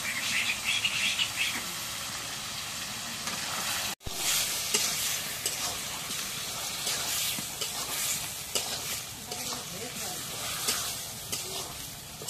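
Spices and meat stirred and frying in a pan, a continuous loud sizzle with scraping stir sounds throughout, one brief break partway through.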